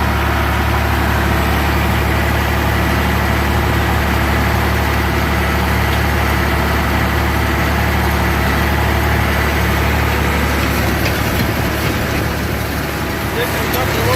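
A tractor engine runs at about 1700 RPM while drilling beans in a field, a loud, steady, low droning hum heard from close by for the whole stretch.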